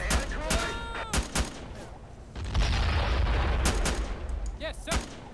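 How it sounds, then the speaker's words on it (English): Mortar and gunfire boom repeatedly in an Iraq War 2003 mod of a combat video game, a sequence of loud sharp blasts and rumbling bursts with a steady battle din between them. "look at how accurate that mortar is"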